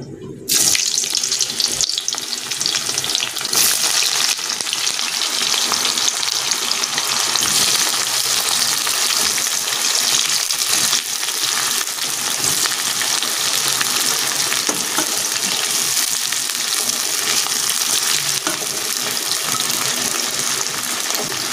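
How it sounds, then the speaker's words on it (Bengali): Chopped onions sizzle loudly in hot oil after a sudden start, a dense crackling hiss that continues steadily with occasional stirring scrapes. "এবার আমি তেলের মধ্যে পেঁয়াজ কুচিগুলো প্রথমে দিয়ে দেবো।"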